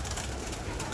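An older pigeon on a rooftop loft coos softly and faintly, a low continuous murmur with no other voices nearby.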